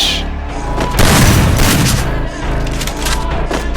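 Gunfire in a shooter video game: a burst of loud, booming shots around the one-second mark, followed by continuing rapid reports that dominate throughout, with no talk over them.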